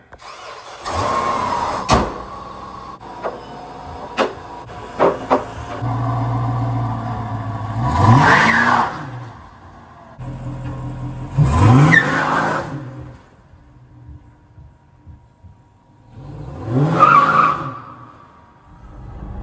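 A car with a Hellcat supercharger on a 5.7 HEMI running E85 drives on the road, its engine revving up in three loud rising bursts with quieter cruising and shifts between them.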